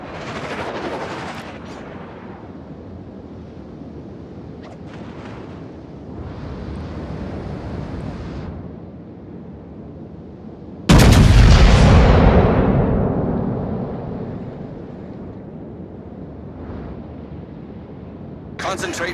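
Heavy naval guns fire at an enemy battleship in a warship video game, one big close blast with a rumbling tail after quieter wind-like background and some speech.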